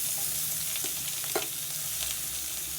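Garlic, ginger, tomato and onion sautéing in a pan for beans chutney, a dense even sizzle with a few soft stirring knocks, close and steady.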